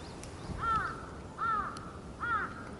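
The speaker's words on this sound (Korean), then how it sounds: "재수없게 까마귀 걸려 있네요" On the east course of Eunhwasam golf course, a crow gives three evenly spaced caws, each a short harsh call, moderately distant over quiet background air.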